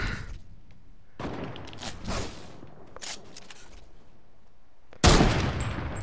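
Bursts of gunfire in Fortnite, shots hitting a player's built ramp, coming in scattered volleys with a louder sharp burst near the end.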